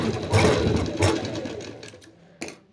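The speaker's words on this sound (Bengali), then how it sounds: "ডবল সেলাই হয়ে গেছে।" A sewing machine double-stitches the collar of a round-collar Anarkali frock, running in a steady close whir with two brief surges and a short burst near the end, no talk.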